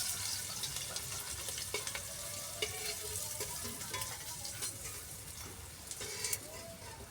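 Tiger prawns frying in oil in a home kitchen make a busy, crackling sizzle, with a few sharper clicks and scrapes as they are turned in the pan. The sound stays close and moderately quiet, with no talking.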